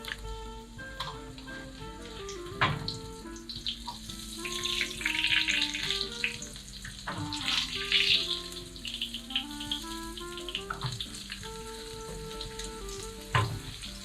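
Breaded cheese frying in hot oil for Slovak vyprážaný syr, a continuous moderate crackle and bubbling sizzle with occasional small taps and clinks, no talking.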